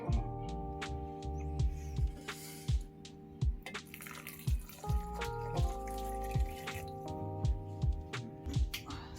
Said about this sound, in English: and pour into this blender.